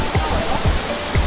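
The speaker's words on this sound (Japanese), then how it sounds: "お、滝だ。" Waterfall near a cliffside cafe in Bali, a loud, continuous rushing roar close by, with a few low thumps and voices faintly underneath.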